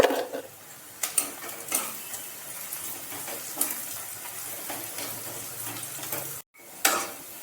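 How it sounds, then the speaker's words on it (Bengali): Sliced onions with a pinch of sugar fry in a pan, giving a steady close sizzle broken by occasional scraping stirs and a brief pause near the end. "পেঁয়াজ ভাজার সময় পেঁয়াজের মধ্যে অল্প একটু চিনি ছড়িয়ে দিলাম"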